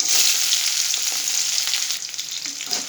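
Chopped onions hit hot oil with already popped mustard seeds for a potato stir-fry, giving a steady, close hissing sizzle with light crackle throughout and no talking.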